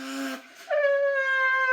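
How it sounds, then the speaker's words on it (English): A shofar sounded by buzzing the lips: a short, low lip buzz, a brief pause, then a loud, steady, bright horn blast held close up for over a second. "Same sound, just, echoes through the shofar."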